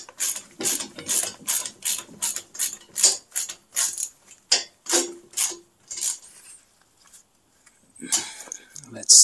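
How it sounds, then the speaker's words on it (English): A 10 mm socket on a ratchet tightens a screw on an 80s retro kart being restored, giving a quick run of rhythmic clicking bursts that slows and thins out toward the end, close and crisp. "And then we change to the 10 millimeter, and let's tighten up this upper screw here."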